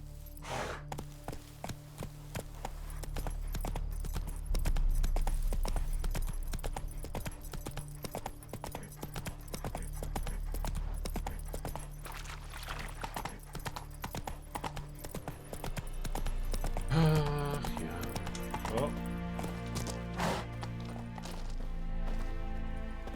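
Horse ridden at a trot in The Witcher 3 video game, its hooves clip-clopping in a steady, close rhythm that continues throughout, with brief creaks and thuds around the middle.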